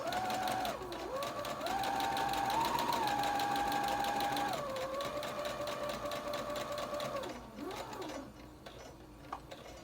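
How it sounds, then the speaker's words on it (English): A sewing machine stitching a seam on a wrap coat with a half-inch seam allowance, its needle whirring in a steady rapid rhythm that speeds up and slows in long runs before stopping. "I'm just going to sew until I get to the other side."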